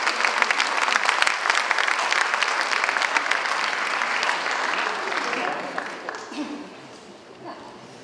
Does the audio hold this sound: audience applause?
yes